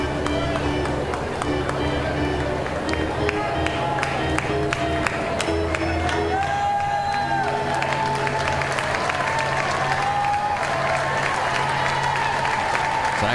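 A home LSU Tigers baseball crowd against Georgia roars and applauds steadily throughout a tense tie game, a dense continuous wash of cheering with an announcer talking over it.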